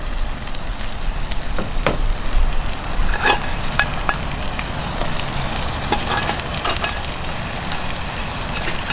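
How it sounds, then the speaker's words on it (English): Potatoes sizzle and fry steadily in a skillet on an outdoor camp kitchen, a continuous close crackle with scattered sharper pops and stirring clicks throughout. "I'll take these potatoes here, throw them back in the skillet."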